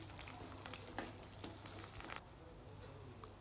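Oil sizzling and crackling steadily in a pan while a tempering is fried until golden for an Andhra-style fish curry (chepala pulusu), a close, continuous frying hiss with small pops, slightly quieter toward the end.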